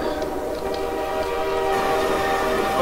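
A train rolls past in the video game Half-Life 2, a steady loud rumble of wagons on rails with a sustained horn-like tone running throughout, building slightly toward the end.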